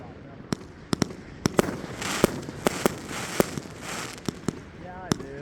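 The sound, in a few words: Great America 25-shot firework cake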